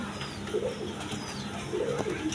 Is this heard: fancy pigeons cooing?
yes